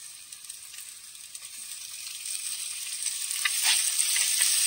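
Tomatoes frying in a pan for a homemade fish curry, a thin hissing sizzle that gradually grows louder, with no voices.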